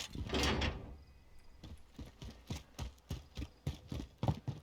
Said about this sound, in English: these tents make a weird flapping noise when you're next to them, so it always sounds like footsteps to me